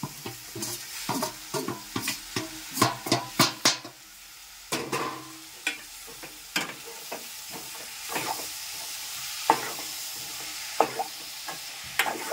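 Tomatoes and coriander cooking in a pan for egg curry, with a spoon stirring in repeated sharp scrapes and clinks over a soft, steady sizzle, close and fairly quiet.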